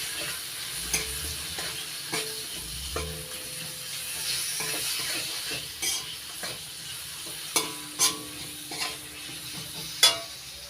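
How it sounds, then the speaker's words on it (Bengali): Spice paste (masala) with salt fries and is stirred in a pan for a light ridge gourd and hilsa fish curry: a steady close sizzle broken by scraping stirs, with sharp spatula clinks against the pan toward the end. "এবার মশলাটা ভালো করে কষিয়ে দেব।"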